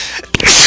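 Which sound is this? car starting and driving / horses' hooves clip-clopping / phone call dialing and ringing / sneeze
sneeze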